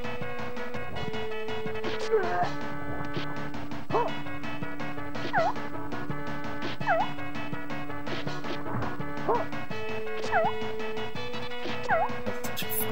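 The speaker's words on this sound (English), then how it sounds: "Sounds like a dog." A dog-like barking cry from the Ranma 1/2 Hard Battle fighting game repeats in short yelps several times over a steady game music loop, mixed with impact hits, moderately loud.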